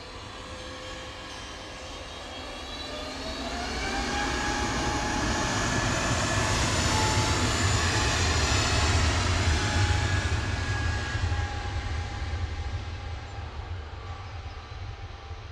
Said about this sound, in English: EasyJet 701 to Belfast now, GUZLT A320 Neo.